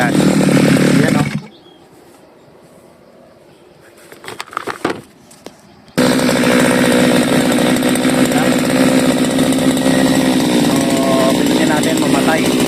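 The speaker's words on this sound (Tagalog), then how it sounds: "Pag ilagyan natin ang accelerator namatay yung grass cutter natin." A CG411 grass cutter engine roars loudly, cuts out abruptly, gives a few brief sputters, then comes back at full, steady volume.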